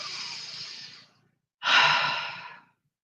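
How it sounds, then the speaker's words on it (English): Two slow, deep breaths taken during an EFT tapping session: a long, airy breath in, a short pause, then a strong breath out, close and clear with no talking. "Nice deep breath."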